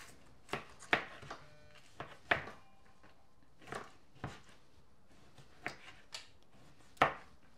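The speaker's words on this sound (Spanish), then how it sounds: "Ahora ya acabé de picar mi jitomate rojo" A knife chops a red tomato on a board with about a dozen separate, irregular, fairly close knocks spaced across several seconds. No talk is heard.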